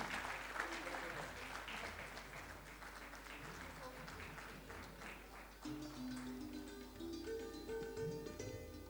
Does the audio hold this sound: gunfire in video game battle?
no